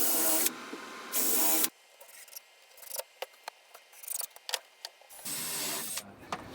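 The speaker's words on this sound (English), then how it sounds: "I'm going to take a countersink bit and just put a couple of holes in it." A countersink bit cuts holes in a chop saw hood, giving a series of short, uneven scraping and grinding bursts between steadier whirring passages, close up and with no speech.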